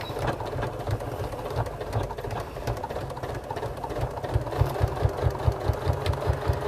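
A sewing machine stitches the side seam of a fabric bag with a steady, rapid mechanical clatter. The sound is fairly quiet and close, and it runs on alone with no talking.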